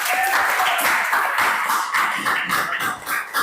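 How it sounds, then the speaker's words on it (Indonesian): A room of attendees at a school-style session claps briefly in welcome for an incoming speaker, a brisk burst of hand claps that thins out and trails off near the end. "Tepuk tangan dulu."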